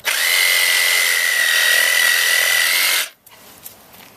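A cordless 20-volt lithium-ion reciprocating saw cuts in one loud, steady, buzzing run of about three seconds, close up, then stops abruptly, leaving quiet room tone with a small knock.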